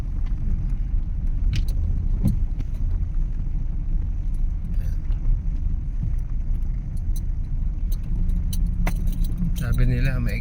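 A four-wheel car driving a half-kilometre stretch of rough road from Montalban, Rizal: a constant loud low rumble with keys jangling throughout, while a voice talks over it.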